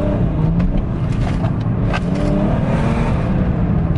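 Remapped car at stage 2 tune, its engine revving loud and close in a continuous, throaty drone with small surges in pitch and no talking.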